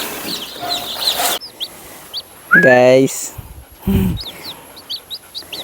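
Chickens and young chicks on a small poultry farm: sharp repeated chick peeps and chirps scatter throughout, with a couple of louder clucking calls from the grown birds close by and someone talking briefly.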